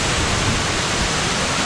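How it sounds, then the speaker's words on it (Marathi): A hillside waterfall pours down with force, a dense, constant roar of rushing water filling the whole short stretch without variation. "इकडे धबधबा बघा धबधबा जोरशी धबधबा"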